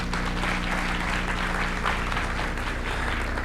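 A conference audience breaks into steady, sustained applause at a university educational leadership event, a dense wash of clapping filling the room at an even level throughout.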